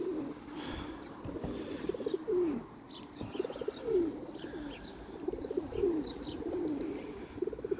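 Racing pigeons cooing in a loft, repeated soft low coos recurring every couple of seconds, close and fairly quiet, with faint chirps in the background.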